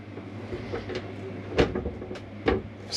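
A shower door in a Chausson Flash 515 caravan is slid and slotted into place, giving a few light plastic knocks and clicks over a steady low hum, the sharpest two close together near the end.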